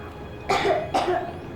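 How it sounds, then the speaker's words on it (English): A young girl's character in Metro Exodus coughs twice in quick succession, close and clear against a quiet hum. "I have this cough."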